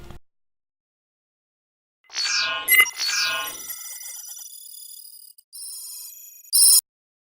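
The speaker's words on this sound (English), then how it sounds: "there's this scanner type thing going on" A scanner-type sound effect from an unofficial StarCraft 2 Wings of Liberty trailer: sweeping electronic bleeps and warbling tones after a pause, trailing into fainter digital chirps and ending with a short bright burst.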